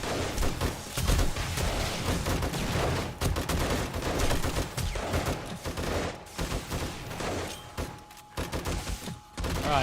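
Sustained gunfire from a fortress defense in 7 Days to Die, with dense overlapping shots, thumps and booms that keep up a loud, continuous barrage with brief dips toward the end.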